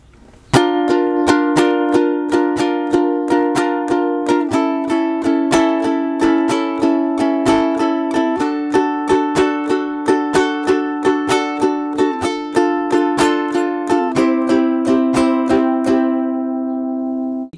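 Steady ukulele strumming runs through an instrumental break of Twenty One Pilots' "Paladin Strait", a bright chord pattern hit in even rhythmic strokes with chord changes every few seconds, played alone and fading at the end.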